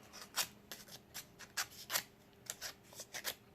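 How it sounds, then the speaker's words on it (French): Scissors cut paper to round off rose petals for a paper flower, making a quiet series of short, irregular crisp snips and rustles close by. "nous allons prendre la paire de ciseaux et nous allons arrondir"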